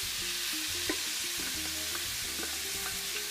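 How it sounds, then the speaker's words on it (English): Vegetables sauté in foaming butter in platinum cookware, giving a steady, even sizzle and hiss that runs throughout at a moderate, close level with no talking. "We're just gonna let these saute down in the butter until we see them sweat."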